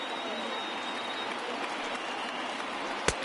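A baseball stadium crowd of over 39,000 on its feet near the final strike of an afternoon game, a continuous broad roar of cheering that stays level, with one sharp crack near the end.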